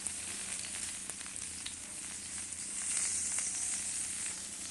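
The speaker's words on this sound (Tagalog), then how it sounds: "Igisa natin yung ating dahon ng sibuyas." Green onion leaves sauté in a pan with a steady, close hiss of frying, brighter and a little louder toward the end, with faint utensil ticks and no talking.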